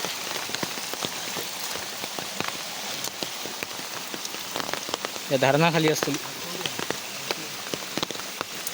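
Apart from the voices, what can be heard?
rain falling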